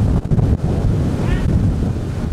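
Strong wind buffets the microphone in a dense, rumbling roar at an outdoor road cycling race, steady and loud throughout.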